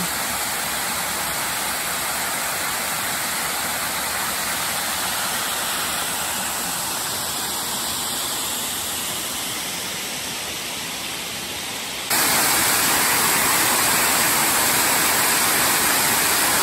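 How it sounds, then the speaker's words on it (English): Steady, roaring rush of water pouring over a dam spillway at Hickory Run State Park, Pennsylvania, loud and continuous, growing slightly brighter and louder near the end. "we've come to our first big waterfall, though this one is, you can see the wall there"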